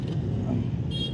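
Vehicles pass on a road during a Navratri outing. A steady, loud rumble of traffic fills the whole stretch, with a faint high toot near the end.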